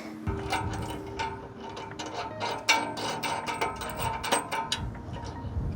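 Bolts are ratcheted tight on an off-road rear bumper for a 2009-2014 Ford F150, giving quick repeated clicking and metallic scraping bursts, close up and moderately quiet.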